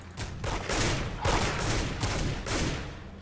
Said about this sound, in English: there's a guy shooting at us!